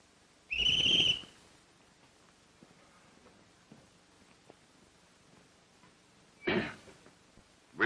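Two shrill blasts of a whistle being blown, the first near 0.5–1.2 s and a second around 6.5 s, loud and close, separated by a quiet stretch with faint background noise.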